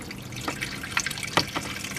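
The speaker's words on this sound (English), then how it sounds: "It's literally just soapy water from the shower or from your sinks." Soapy shower and sink water drains from an RV holding tank in a steady, hollow gush, with small splashes and gurgles rising over the flow at close range.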